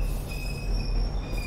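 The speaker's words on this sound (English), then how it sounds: "Oh, the train's here." A train pulls into a station in The Ghost Train video game, a steady low rumble with thin high wheel squeals running across it, moderately quiet and heard alone without talk.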